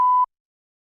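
A single loud censor bleep, a steady pure tone lasting about a quarter second, cuts in abruptly and stops dead, followed by silence.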